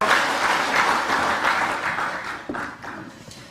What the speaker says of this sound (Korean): 큰 박수 모시겠습니다